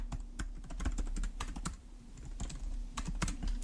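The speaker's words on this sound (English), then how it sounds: "I'm typing with one hand" Keys clack in quick irregular bursts as someone types one-handed on a computer keyboard, close and fairly quiet over a low steady hum.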